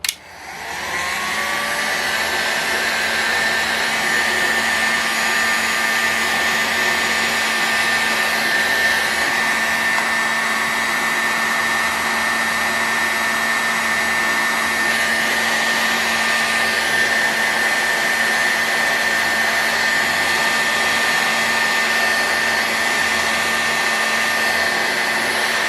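A heat gun blows a steady, loud whoosh as it heats the aluminum bearing case of a Magnum XL 46 ABC model engine, starting with a quick rise and then running unbroken, with no talking.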